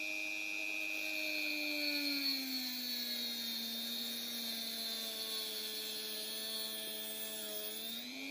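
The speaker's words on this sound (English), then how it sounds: "If you have a power tool like Dremel, now is the time to use it." A Dremel rotary tool whines at high speed while grinding down an M2 screw, giving a steady, close, piercing hum whose pitch sags slightly under load, continuous throughout with no voices.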